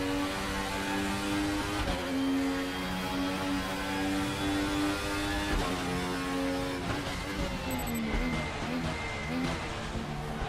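A car engine revs hard, its harmonic tone climbing and dropping through repeated gear changes made with a new shifter fitted with a 3-inch extension, loud and close with little talk.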